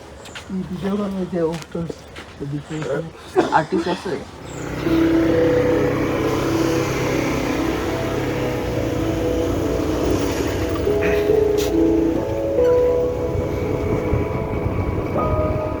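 A motorbike ride to Himchhari near Cox's Bazar: after a few seconds of talk, a steady, loud rush of engine and wind noise runs continuously to the end.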